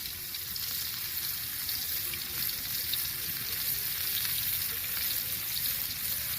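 Fish frying in a pan alongside kebabs, a steady, close hiss and crackle of hot oil that continues evenly throughout, with no talking.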